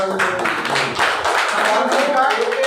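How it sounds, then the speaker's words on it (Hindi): An audience at a leadership training session in Samastipur claps briskly while a voice carries on over the applause. "बहुत जोरदार तालियां, बहुत शानदार"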